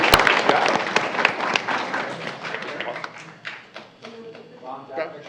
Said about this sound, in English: Round of applause for Kayla and her family who's here this evening as well.